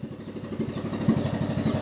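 A newly installed engine idles during break-in, running steadily with a close, even low throb and rapid rhythmic firing pulses, with no talking.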